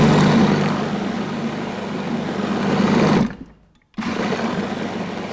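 A food processor grinds a raw Swiss roll pastry mixture with psyllium in a loud, steady whir that cuts out abruptly, leaving a short silence before the motor starts up again.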